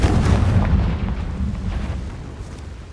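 A Confringo fire spell explodes in Hogwarts Legacy, a heavy low booming blast that rumbles and slowly fades over a few seconds, loud and close with no speech.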